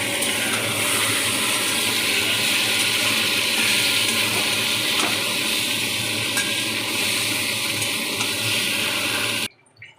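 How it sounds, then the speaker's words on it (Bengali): Chicken pieces fry in a pan of oil, a steady loud broadband sizzle running without pause until it cuts off abruptly near the end; no voices. "তো একটু লাল লাল করে ভেজে তুলে নেব।"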